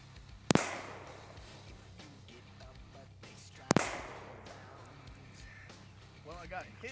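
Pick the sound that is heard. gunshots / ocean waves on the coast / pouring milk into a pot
gunshots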